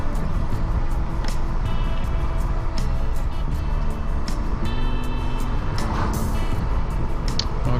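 A car drives north along Highway 97, its steady road and engine drone continuous throughout, with faint intermittent clicks and ticks over the hum.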